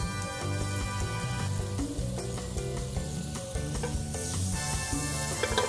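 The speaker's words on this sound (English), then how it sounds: "Then get some olive oil in the pan like I just did, get some butter too" Olive oil and butter sizzle in a pan over high heat before pork chops go in, a steady crackling fry heard under prominent background music.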